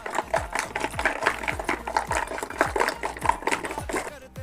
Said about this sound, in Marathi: त्यापैकी रवीने छान असं घुसळून घ्यायचं.